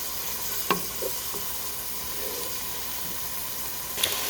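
Meat, olives, rice and beans sizzling in a pan, a steady close hiss of frying with a few soft clicks and stirring taps, alone without talk.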